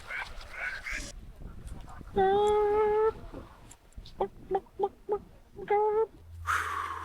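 Chicken clucking on an island tour near Port Barton, a series of short close clucks and a couple of drawn-out squawking calls spaced through the moment, with quiet background sound between them.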